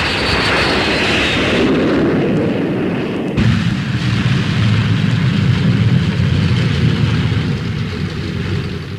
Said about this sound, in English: the P-1067, the fastest fighter flying today